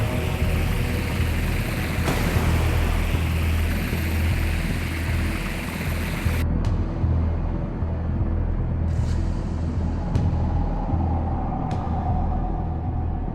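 An anti-submarine helicopter in DCS keeps up a constant rotor and engine rumble at sea, then the high hiss drops out about halfway through and the low drone continues steadily.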